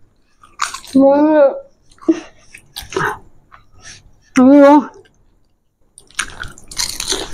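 Crunchy panipuri bitten and chewed up close, with brief crisp crunches and wet chewing between loud vocal exclamations and chatter.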